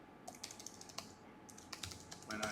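Someone types a prompt on a computer keyboard, producing quiet, irregular bursts of keystrokes with short pauses between them and no voices.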